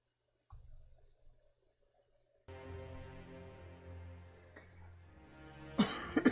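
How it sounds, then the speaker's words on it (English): A person coughs several times during a game stream, short bursts standing out against faint background sound and a steady hum, with a sharper cough cluster near the end. "I don't know why I'm coughing lately."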